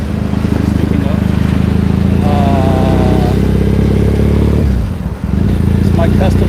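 A custom Triumph Bonneville motorcycle engine rumbling loudly and continuously up close on a ride through Tokyo, with a rising rev partway through and a brief dip before it picks back up.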